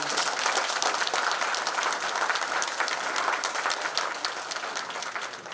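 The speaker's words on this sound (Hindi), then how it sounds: "तालियां थोड़ी ज्यादा बजनी चाहिए।" Audience applause at a public event on the Ganga and Himalaya, a dense, even wash of many hands clapping, steady and fairly distant, with no speech over it.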